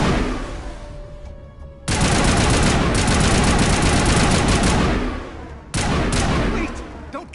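Gun turrets in the video game Mass Effect fire loud, sustained automatic bursts that crackle in dense rapid volleys. A short lull separates the two long barrages.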